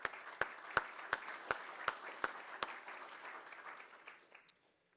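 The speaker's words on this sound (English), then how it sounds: "If you join me in applause for those folks." Applause from a conference audience honoring the leadership of a Mexican American leadership initiative, a steady wash of many hands with a few sharp nearby claps standing out, then tapering off to silence.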